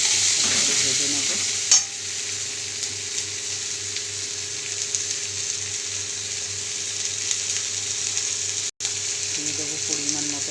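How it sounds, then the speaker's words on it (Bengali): Tomato fries in a pan with a steady, moderate sizzle and soft stirring scrapes, a sharp clack near the start and a brief dropout later, with no speech. "ভেজে নেব।"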